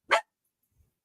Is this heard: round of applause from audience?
no